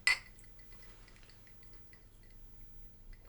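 Glasses clinking together in a toast at a 1950s-style afternoon tea party, one sharp bright clink at the start fading into a quiet ringing and faint table sounds, with no talking.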